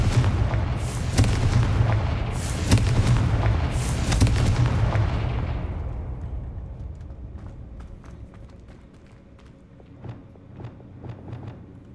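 Hogwarts Legacy spellcasting as Bombarda and Confringo blast spells detonate in a series of heavy booming explosions, three big bursts close together, then fading rumble and scattered small crackles and debris.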